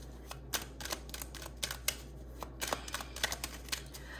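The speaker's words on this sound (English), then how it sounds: "Let me shuffle better." Tarot cards being shuffled by hand during a reading, a quiet series of soft papery riffles and flicks in an irregular rhythm, close and alone against low room hum.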